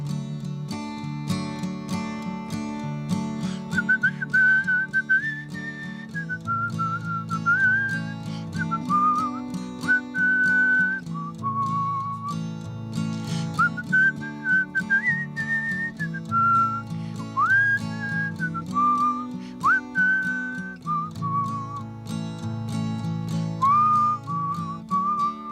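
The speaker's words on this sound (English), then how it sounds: "There's a tune worth whistling to." Clear, melodic whistling of a tune carries over steady instrumental backing, with bright sustained notes sliding and shifting in pitch throughout at an even, prominent level.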